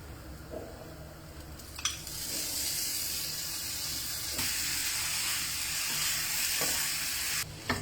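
Rice stir-fried with fried shallot and seasoning in a pan, a steady close sizzle and hiss running throughout with a few sharp scrapes of the utensil against the pan.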